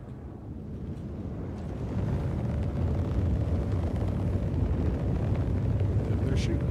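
A continuous roaring rumble of gunfire and explosions in the Star Citizen video game, rising in loudness and staying dense and heavy throughout, with no clear separate shots.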